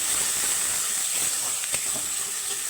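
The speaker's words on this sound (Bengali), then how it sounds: "আর এখানে কাঁচা লঙ্কা পেস্ট মশলাটা একটু হালকা আমি ভেজে নেব" Tomato and green chili paste masala fries in a pan with a dense, even hiss that holds steady throughout the short stretch, close and fairly loud.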